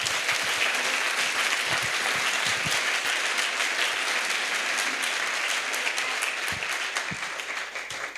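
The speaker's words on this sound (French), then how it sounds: "Let's clap to Jesus." Congregation at an evangelistic crusade in Bafoussam clapping for Jesus, a dense, loud, sustained crowd applause with sharp individual claps throughout, tapering slightly at the end.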